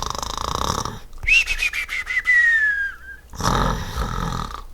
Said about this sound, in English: That was quite the snore.